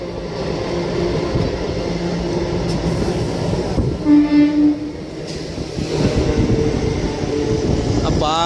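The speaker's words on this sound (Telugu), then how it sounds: "గూడ్స్ ట్రైన్ అటు వచ్చేసిందే" A goods train rolls past Manubolu railway station, heard from aboard a moving MEMU train, with a steady loud rumble, a brief horn blast midway and the ongoing clatter of cars.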